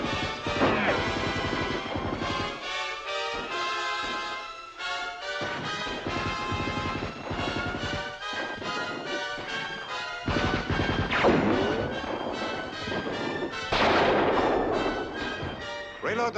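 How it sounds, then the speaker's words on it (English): Machine gun fire in a battle scene from a 1951 desert adventure film, loud bursts and crashes over a dense orchestral score, with shouting voices mixed in throughout. "Reload the machine gun."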